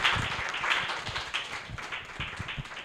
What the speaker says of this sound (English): I would like us to give all the speakers a very big round of applause